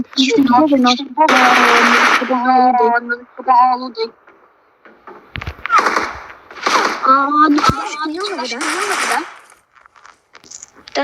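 Sniper gunfire in the video game PUBG Metro Royale: a loud burst and a few sharp, isolated shots break through near-constant excited talk.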